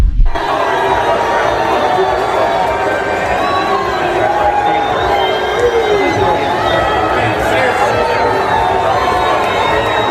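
A large crowd at an Iowa football game greets Trump with a loud, sustained mix of boos and cheers, a dense roar of many voices that stays steady throughout.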